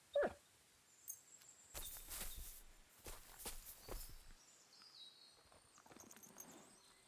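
A dog in Kingdom Come Deliverance 2 amid faint footsteps or hoof-like clopping, soft scattered bursts at low level with quiet gaps between.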